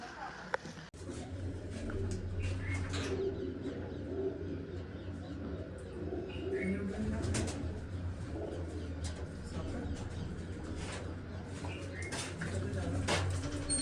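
Pigeons coo softly in a low, repeated murmur, with faint background voices and a few scattered chirps around them.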